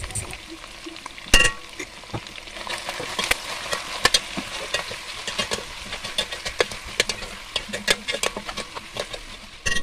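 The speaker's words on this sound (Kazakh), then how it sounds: "Етіміз қуырылды, енді үстінен сәбіз бен пиязымызды, тұз бен бұрышымызды қосып араластырамыз." Meat frying in a pan with carrots, onions, salt and pepper added, stirred with steady sizzling and repeated sharp scraping clicks of a utensil, close and fairly loud, with no talk over it.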